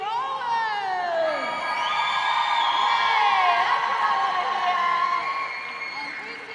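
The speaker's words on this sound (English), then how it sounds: "huge cheer for the home crowd." A large crowd cheers and whoops at a roller derby finals bout, voices swelling into a sustained roar with high shouts and whistles riding on top before slowly easing off.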